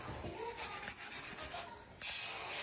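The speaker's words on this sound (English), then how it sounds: "Come on, you gotta scrub that joint." Brisk back-and-forth scrubbing of a stained surface, a soft rasping rub that runs steadily and close, briefly louder near the end.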